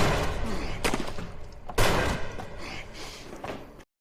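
Gunshots ring out during a bridge confrontation in a film action scene: two sharp, loud bangs, with a ragged burst of impact and action noise after each.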